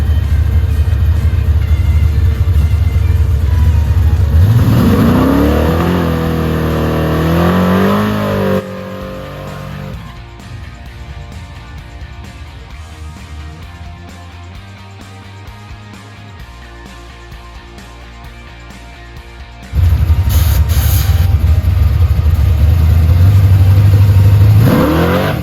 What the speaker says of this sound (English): the Malibu made the fastest 8th mile pass it's ever made